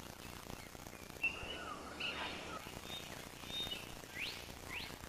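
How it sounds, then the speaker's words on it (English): A blue bird of paradise calls in early morning New Guinea forest, giving a few thin rising whistles and chirps, faint and set back amid the trees over a soft, steady background hiss. "its calls to attract a mate ring through the trees, making it easy to find."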